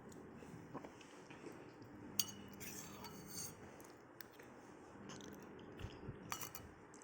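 Utensil stirring pasta in a boiling pot, with soft scraping and clinking against the metal, the burble of the boil running underneath, quiet and close.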